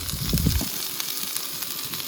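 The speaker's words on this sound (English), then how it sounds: "Like I said, basically frying up these potatoes." Potatoes frying in avocado oil in a pan on a camp stove, a steady soft sizzle and hiss with a brief louder crackle at the start.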